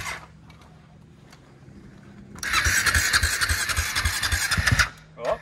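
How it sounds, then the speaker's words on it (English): The engine of a 2021 Ford F-150 Platinum truck bursts to life after a quiet start, roaring loudly with rough, pulsing throbs before suddenly cutting off. "It's gonna be a good backfire."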